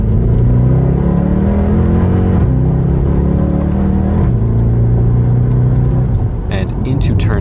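Mercedes E63 AMG engine pulling hard out of a slow turn on a race track, a loud, steady rumbling drone that holds and shifts in pitch before easing off near the end, with talk over it.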